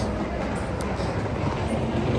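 A passing train heard as a faint, steady low rumble with a soft rolling rail noise over roughly two seconds. No clear voices sound over it.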